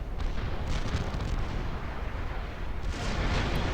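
Demolisher units in the Supreme Commander 2 video game fire artillery, producing a loud, continuous roar of overlapping booms and blasts with no clear break.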